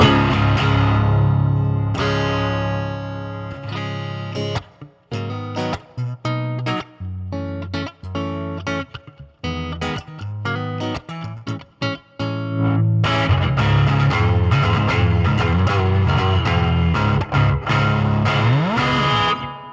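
An overdriven electric guitar through a cranked Marshall amp plays loud, distorted chords and choppy riffs, with a stretch of short stabs and rests before sustained crunchy strumming resumes.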